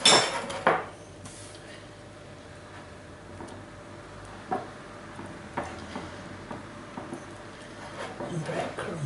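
Fishcakes being dredged through flour, egg and breadcrumbs in a home kitchen, with a loud clatter of dishes at the start followed by soft scattered taps and clinks of bowls and utensils under a talking voice.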